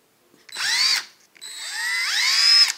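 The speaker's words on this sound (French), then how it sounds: "On est sur une perceuse visseuse qui va être plutôt sur une puissance de à peu près 50 Nm." A blue Dexter UP 20 brushed-motor cordless drill-driver of about 50 Nm whirs up in two short bursts, the second longer and rising in pitch as the motor speeds up, close and loud with a brief pause between.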